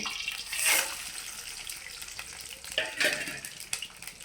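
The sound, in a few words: tempering spices sizzling in hot oil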